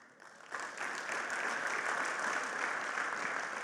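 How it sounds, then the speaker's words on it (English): A lecture audience bursts into applause, a soft start that swells after half a second into a steady, dense wash of clapping that holds at moderate distance. "Applaud."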